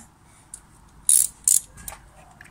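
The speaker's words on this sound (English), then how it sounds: "And I'll just get my ratchet." Ratchet wrench clicking on a spark plug in a Fiat Punto Grande engine bay, a few sharp separate bursts of ratcheting with faint quiet gaps between them, close and alone.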